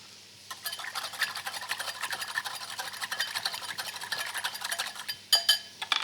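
Salt going onto a salad in a TV kitchen: a close, steady run of rapid gritty crackles and scrapes lasting several seconds, ending in a few sharper clicks, with no talking over it.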